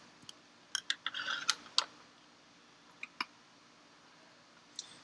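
Scissors cutting the top off a plastic test-tube-shaped container in a classroom lab, a few sharp close snips and clicks in short clusters, quiet between them.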